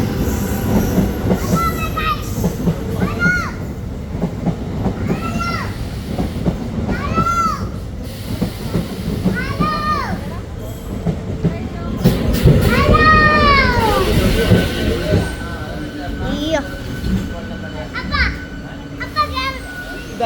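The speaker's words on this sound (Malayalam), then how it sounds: "അപ്പൊ ട്രെയിൻ വന്നു" A passing train rumbles steadily beneath excited children's voices, with repeated high squeals from its wheels rising and falling throughout, loudest near the middle.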